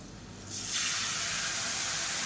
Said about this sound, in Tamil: இந்த ஸ்டேஜில் புளி தண்ணி சேர்த்துக்கலாம்